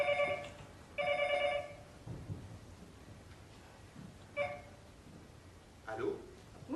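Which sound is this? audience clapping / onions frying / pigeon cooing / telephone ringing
telephone ringing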